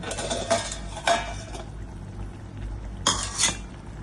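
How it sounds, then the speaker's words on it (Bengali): A lid lifted off a pot of mustard pabda fish curry, giving a few clattering metal clinks followed by quieter bubbling and then another sharp clank, close by. "5 মিনিট ঢাকার পর আমি ঢাকাটা এখন সরিয়ে দিচ্ছি"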